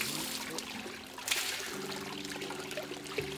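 Spring water is poured over the head of a stone turtle statue in Shimabara, Japan, a close, continuous trickling and splashing stream with a faint hum beneath it.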